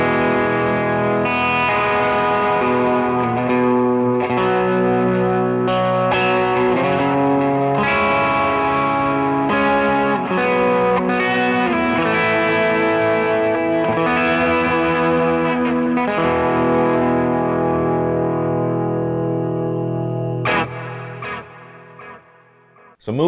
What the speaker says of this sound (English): So here it is with delay and reverb as I would maybe play it in a song.